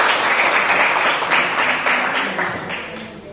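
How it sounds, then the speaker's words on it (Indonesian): Classroom applause for a student group in a school lesson, a dense steady clatter of many hands filling the room and tapering slightly toward the end. "Tepuk tangan untuk kelompok 1."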